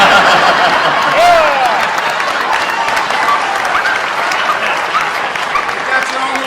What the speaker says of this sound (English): Give him a round of applause, huh?